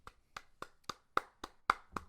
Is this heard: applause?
yes